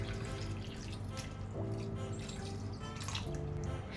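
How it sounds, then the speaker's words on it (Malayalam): Cold water pours steadily onto washed, cut potato strips for French fries, a continuous splashing trickle with a low, even hum beneath it. "ഇതിലോട്ട് തണുത്തുള്ളം പിന്നെ ഒഴിച്ചു കൊടുക്കാം"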